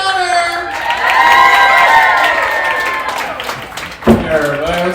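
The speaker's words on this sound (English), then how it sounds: "let's get those hands clapped for our host of the night, Shane O'Connor." A live crowd at Underground Arts whoops and cheers for the host's big entrance at a comedy set-up show, loud sustained shouting with some clapping, voices rising and swelling together, then a brief sharp burst near the end.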